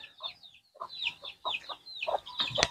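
Native chickens on a farm cluck in quick repeated bursts close by, with higher squawks mixed in and a sharper call at the end.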